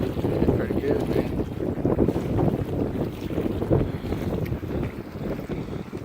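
Strong wind of about 15 mph buffeting the microphone beside a cheap $50 bait boat on open water, a loud continuous rumbling roar with gusty surges and water noise throughout.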